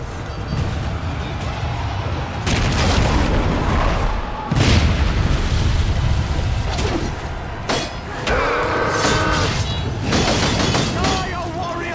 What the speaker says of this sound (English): Fire the catapults! Destroy them now!